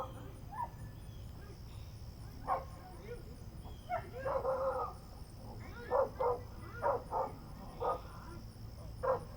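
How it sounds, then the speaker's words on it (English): Dogs bark in short, scattered bursts around the house, several yips and barks spread across the stretch over a steady hum, moderately distant and mixed with a few other animal-like sounds. "my dogs are freaking out"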